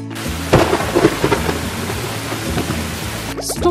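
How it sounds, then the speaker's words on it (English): Storm sounds of a heavy thunder crack and long low rumbling over steady hissing rain. The thunder peaks early and then fades under constant rainfall until an abrupt cutoff. "Storm."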